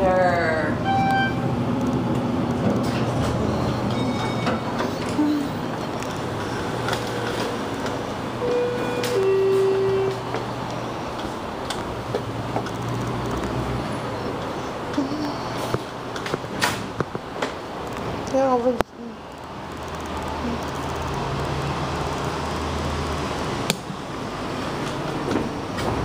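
A Schindler 6400NA elevator, installed in 2003, running in an airport parking garage: a steady mechanical hum and rumble with occasional clunks and a faint chime, continuous for nearly half a minute.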